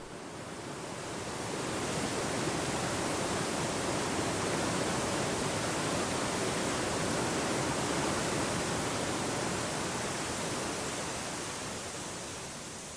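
The world's highest fountain at Fountain Hills near Phoenix sprays water in a broad, steady hiss and roar that swells in and holds evenly, with no voices.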